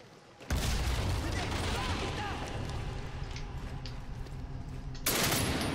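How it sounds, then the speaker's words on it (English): Gunfire in the Medal of Honor Warfighter video game while lining up headshots, a dense roaring burst of shots that starts abruptly, runs continuously and surges again at the end. "Let's go ahead and hit A and get the headshots going,"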